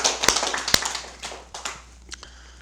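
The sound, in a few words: applause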